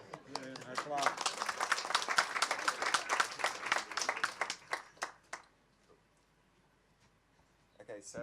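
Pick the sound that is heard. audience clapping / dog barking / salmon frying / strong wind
audience clapping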